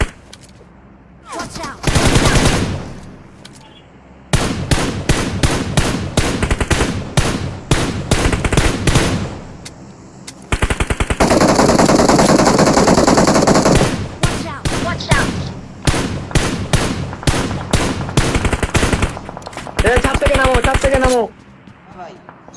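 Rapid automatic gunfire at an enemy in a shooting video game tournament match, loud sustained bursts of repeated shots with brief pauses and one long continuous volley, while someone talks excitedly over it.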